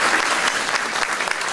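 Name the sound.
brief round of applause for Dr. Calderon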